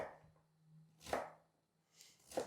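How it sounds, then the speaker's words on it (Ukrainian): A few crisp knife chops on a cutting board, dicing a vegetable into cubes, spaced out with quiet gaps between them, close up and with no talking. "ріжу її на ось такі полоски рівномірні і нарізаю кубиком"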